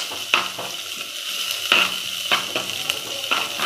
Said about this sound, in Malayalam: ഉള്ളി, പച്ചമുളക്, മൂന്ന് പച്ചമുളക്, കറിവേപ്പില, ഇത് ഇട്ടിട്ട് നന്നായിട്ട് നന്നായി വഴറ്റണ്ട.